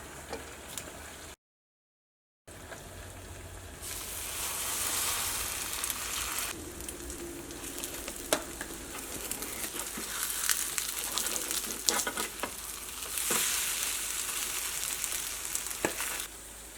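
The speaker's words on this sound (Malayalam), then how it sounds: "അപ്പോൾ ഞാൻ അടുത്തത് നമ്മൾ മുട്ട പൊരിക്കാൻ വേണ്ടിയിട്ട് പോട്ടെ." An egg frying in a hot pan gives a continuous close sizzle and crackle that swells and eases, with faint clinks from stirring and no talking.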